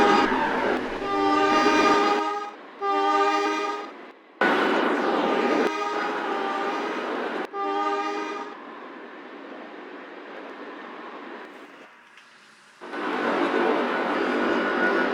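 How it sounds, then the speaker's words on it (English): A Shinkansen train in the Trainz simulator pulls into Houston Station, sounding several loud, sustained multi-tone horn blasts in a broken rhythm, with a steady rolling rumble running beneath and between them. "Here we have an inbound train."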